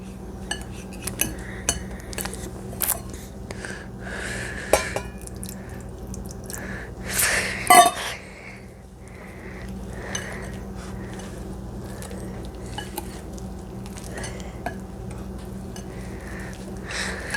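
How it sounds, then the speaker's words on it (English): A spoon scrapes and clinks against a bowl while stirring pancake batter mixed with black and red beans and a little water. Light irregular taps and scrapes sit at a quiet, close level, with one louder clatter midway. "we're going to stir it a little bit more once again. Just to get a little bit mushy"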